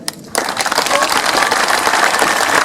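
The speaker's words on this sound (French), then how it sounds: "Il faut, encore une dernière fois, applaudir nos personnels soignants fortement." A crowd gathered outside Albertville hospital applauds its care staff, a sudden burst of sustained, loud, dense clapping that starts after a brief quiet moment and carries on steadily.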